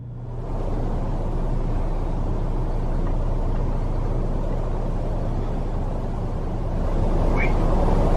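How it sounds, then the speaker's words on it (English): A car rolls steadily down a dirt pathway, its engine and tyre noise a constant, loud low rumble that barely changes from start to finish. "Franco TV decides to get into his car and instead drives down the creepy pathway from the safety of his vehicle."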